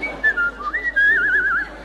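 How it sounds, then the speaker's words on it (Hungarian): A person whistles a wavering, sliding melody alone at close range, in short phrases that end in a rapid trill. "Ilyen fütyülés, dadolászás,"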